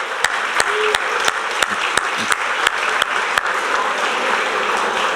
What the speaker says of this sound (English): join me in a round of applause for you